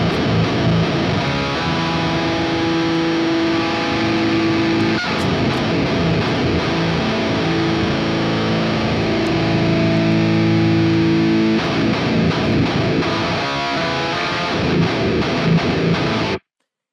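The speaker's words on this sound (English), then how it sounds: "we could bump up the rodent drive distortion" A heavy electric guitar played through Rodent drive distortion in a heavy tone, loud chugging riffs with sustained droning chords and short palm-muted stops, continuous until an abrupt cutoff.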